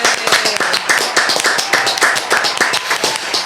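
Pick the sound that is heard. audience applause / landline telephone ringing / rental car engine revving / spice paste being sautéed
audience applause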